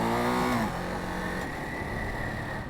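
A 2021 Ducati Monster Plus motorcycle engine fires up and settles into a steady idle, loud and close, with no talking over it.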